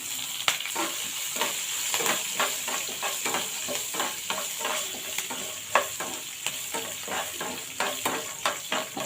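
Steady crackling sizzle of a tempering of curry leaves and chopped green chillies frying in hot oil, with sharp pops and spatters throughout, close and fairly loud.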